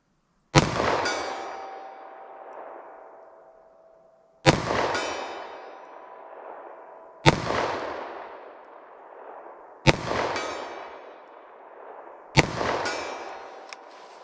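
Five sharp gunshots from a snub-nose revolver firing Hornady Critical Defense .38 Special +P rounds, spaced a few seconds apart, each loud crack followed by a ringing outdoor decay.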